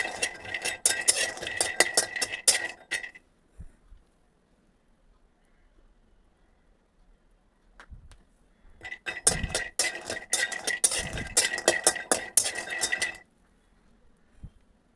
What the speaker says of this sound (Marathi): बदाम पण आपल्याला थोडेसे भाजून घ्यायचे